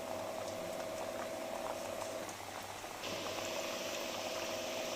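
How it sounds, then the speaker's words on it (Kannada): Badusha pastries frying in hot oil for Diwali sweets, a steady dense bubbling sizzle that fills the whole stretch, loud and close with no voices. "ಈಗ ಒಂದೊಂದೇ ಬಾದುಷಾನ ಬಿಡ್ತಾ ಬರೋಣ. ನೋಡಿ ಈ ರೀತಿಯಾಗಿ ಎಣ್ಣೆಯಲ್ಲಿ ಬಿಡ್ತಾ ಬನ್ನಿ."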